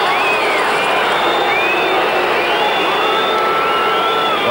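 A large crowd at a schools rugby cup final reacts, sustained loud murmuring and shouting with rising and falling whistles from the stands, close and continuous.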